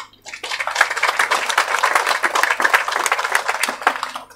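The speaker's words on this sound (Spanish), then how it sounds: "quiero que se den un fuerte aplauso" A crowd applauds banana producers at a civic event in Chimoré, in the tropics of Cochabamba, Bolivia. The dense clapping stays loud and steady for about four seconds, with no voices over it.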